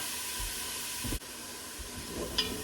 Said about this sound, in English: we're gonna saute this just for a few minutes, just until that onion gets soft